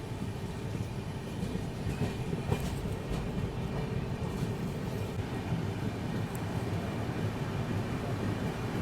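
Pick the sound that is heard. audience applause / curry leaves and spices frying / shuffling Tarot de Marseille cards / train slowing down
train slowing down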